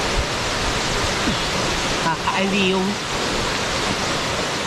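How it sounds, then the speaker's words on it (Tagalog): The waterfall at Catingas Falls in Romblon roars as a steady, broad rush of falling water, loud and unbroken throughout, with a voice briefly speaking over it. "Plus ng tubig, nakaka-relax sa tenga."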